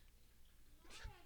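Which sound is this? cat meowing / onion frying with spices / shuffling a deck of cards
cat meowing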